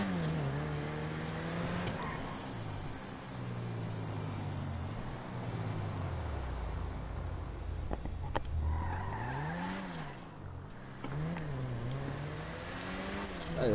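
A car in GTA revs up as its turbo spools, with the engine pitch sweeping up and down through several gear changes and a tire squeal, loud and continuous, with no talking.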